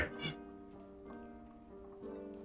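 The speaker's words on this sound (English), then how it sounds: "You're gonna keep meowing, you're gonna get picked up." A pet cat named Bean lets out a couple of meows up close but fairly quiet, with a harmonic, tonal cry at the start and another fainter one near the end, and no talk over it.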